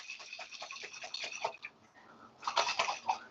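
A little water shaken inside a pasta sauce jar, giving a quick run of rhythmic sloshing splashes that pause briefly, then a louder burst of sloshing.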